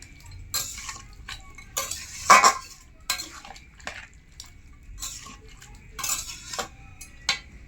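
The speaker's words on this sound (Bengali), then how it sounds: "জলের মধ্যে দিয়ে এইভাবে একটু খুন্তি দিয়ে কষে নেব।" A spatula scrapes and clinks against a pan, stirring spiced chicken with a splash of water in quick, irregular strokes. The taps and scrapes are close and fairly soft, with no talking.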